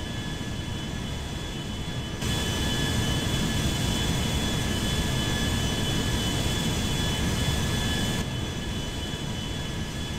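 A loud, steady airplane engine roars and drones without a break, with a faint high whine riding on top; no voices. Airplane in the video game GTA 5.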